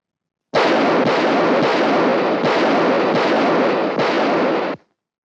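A rapid burst of movie gunfire aimed at a bulletproof jacket, loud and close, with several dense volleys running continuously for about four seconds before stopping abruptly, no voices.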